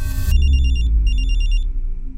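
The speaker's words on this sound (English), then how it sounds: "At 11 p.m., Robert's phone rang" A telephone rings with two bursts of bright electronic trilling, clear and close above a heavy low rumble.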